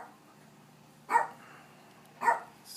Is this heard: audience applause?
no